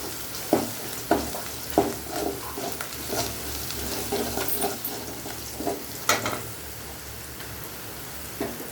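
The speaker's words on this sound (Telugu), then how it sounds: "ఎర్రగడ్డలు బాగా ఏగేంత వరకు కలబెట్టాలి" Sliced onions sizzle and fry in a pan for carrot rice, with a spoon scraping and stirring in irregular strokes over a steady hiss, close and moderately loud.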